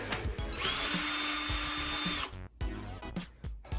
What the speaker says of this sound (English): So we have our pilot holes drilled